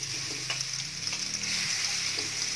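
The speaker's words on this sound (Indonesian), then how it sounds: "Kita tumis bumbunya." Spice paste sautéing in a hot pan for snail cooking, a steady close sizzle with a few soft stirring scrapes, alone without talk.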